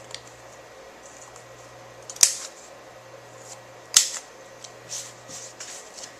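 A corner rounder punch trims the bottom edge of a handmade owl birthday card, giving two sharp, crisp clicks a couple of seconds apart, followed by fainter handling rustles in a quiet room.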